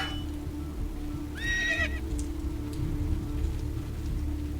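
A horse in the Assassin's Creed 2 video game gives one clear whinny, short and rising, amid background game noise, a steady hum and rain-like patter.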